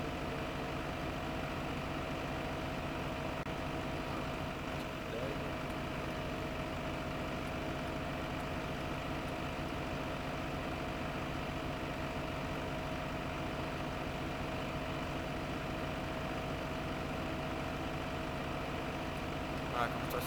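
A tractor engine idles in the video game Farming Simulator 15, a steady low drone with constant hum and no change in pitch throughout.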